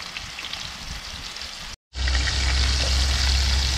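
Dense crackling sizzle of shrimp frying in hot oil outdoors on a riverbank, close and loud, briefly cut off by a moment of silence before resuming stronger.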